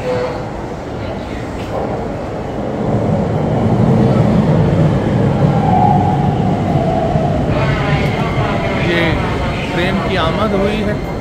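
A train pulls into a station in Yokohama, Japan, its steady rumble and rolling clatter building and holding loud through the middle, with crowd and voices mixed in and a brief tonal squeal partway through.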